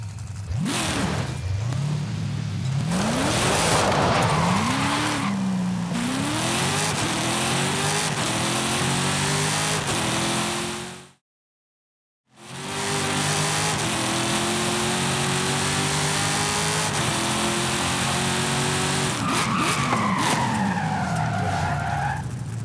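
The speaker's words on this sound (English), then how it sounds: "Which Golf do you want to drive for our little race? I'll take the Golf GTI." Volkswagen Golf GTI racing in Forza Horizon 5, with loud engine revving rising through gear changes and tire skids, a brief silent gap midway, then more acceleration and sliding.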